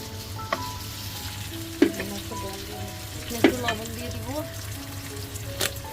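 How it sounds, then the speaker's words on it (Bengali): Onion fries in hot oil as it is stirred, giving a steady close sizzle under a few ringing metal spoon clanks against the pan, spaced a second or two apart. "এই তেল তারপরে দিয়ে দিব পেঁয়াজ এটাকে ভালো মতো নাড়াচড়া করবো"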